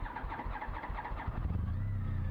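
A Honda CTX motorcycle engine being started: a cranking rattle catches and settles into a low, steady idle rumble, heard close with no voices.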